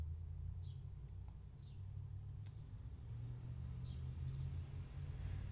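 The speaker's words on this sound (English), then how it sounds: "Mr. Noisy Truck is driving by" A noisy truck passes outside, its low steady rumble droning through the whole stretch at moderate level, with a few faint bird chirps above it and no talk.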